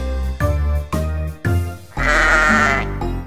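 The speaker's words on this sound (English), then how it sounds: "A sheep is in the barn" A sheep bleats in a children's farmyard song, several loud, drawn-out wavering baas in a row, the last one longest, with no talking.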